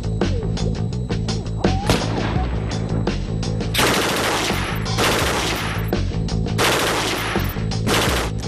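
A Mk 48 heavy machine gun fired on a range in repeated bursts, loud sharp rapid shots with dense bursts and brief pauses between them, heard close up.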